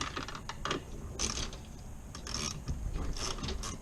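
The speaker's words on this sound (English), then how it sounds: "I just use a 1/4 inch drive with a 10mm, and you'll go through" A 1/4 inch drive ratchet with a 10mm socket loosens nuts during a Futures fog light kit install on an F-body car, giving bursts of close metallic clicking that come and go in short irregular runs.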